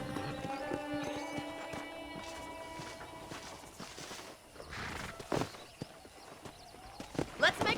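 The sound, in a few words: horse hooves clip-clopping in video game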